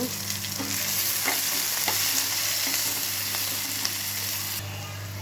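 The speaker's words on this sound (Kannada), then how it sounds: "ಅದನ್ನು ಸಣ್ಣದಾಗಿ ಕಟ್ ಮಾಡ್ಕೊಂಡು ಹಾಕ್ತಾಯಿದ್ದೀನಿ. ಇದನ್ನು ಫ್ರೈ ಮಾಡ್ಕೊಳ್ಳೋಣ." Finely chopped garlic frying in a pan, a continuous bright sizzle with a few light stirring scrapes, close and steady, easing slightly near the end, no talk.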